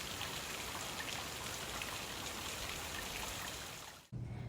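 Heavy rainy-season downpour drums steadily on surfaces around an opened-up house, a dense, loud, continuous hiss of drops that cuts off abruptly near the end.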